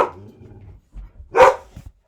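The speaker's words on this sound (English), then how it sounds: "Sorry, those are my dogs." Dogs barking indoors, a faint bark at the start followed by one sharp, louder bark, with quiet gaps between them.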